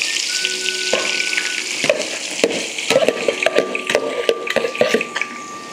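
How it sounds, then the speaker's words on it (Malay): Onions fry in hot oil with a steady close sizzle, broken by scattered clicks and scraping taps of stirring in the pan as a charity cook prepares biryani. No one speaks. "minyak dah panas, dah masuk. Pak sekawan, kita goreng bawang"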